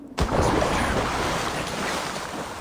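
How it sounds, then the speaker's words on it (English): A character swims in the sea in Assassin's Creed Valhalla: after a brief quiet start, a steady washing of water and surf rises and holds loud to the end, with no talk. "Screw it. I'm going in the water. We're going for a swim."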